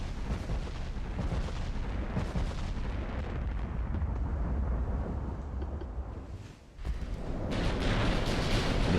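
HE shell explosions and naval gunfire in the warship game Ultimate Admiral Dreadnoughts, a continuous rumbling barrage of booms that briefly fades before another loud burst of firing.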